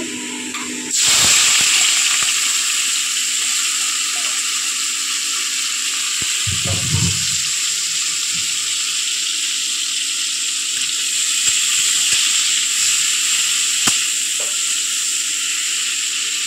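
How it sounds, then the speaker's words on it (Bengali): Salted, turmeric-coated prawns dropped into hot oil in a kadai give a sudden loud, steady hiss and sizzle that holds evenly for over fifteen seconds, with a few faint clinks and knocks underneath. "তেলটা গরম হয়ে গেছে, মাছটা দিয়ে দেবো।"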